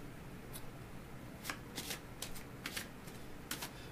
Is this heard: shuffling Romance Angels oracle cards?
yes